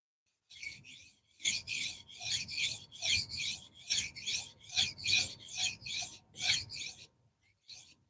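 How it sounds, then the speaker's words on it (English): A metal file rasps rhythmically across a knife blade being shaped, a dozen or so steady back-and-forth strokes close up, alone with no talk over it. "Trying to shape this knife."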